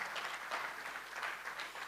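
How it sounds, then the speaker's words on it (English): An audience claps after a keynote address at a takaful celebration event, a dense, even patter of many hands continuing steadily at moderate volume. "Another round of applause for Ms. Ohoshika for her keynote address."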